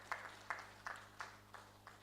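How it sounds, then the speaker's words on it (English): Faint, sparse clapping at a press conference for the Nigeria Prize for Science 2024, six soft isolated claps spaced evenly and fading slightly, distant and quiet. "Please, a round of applause for her again."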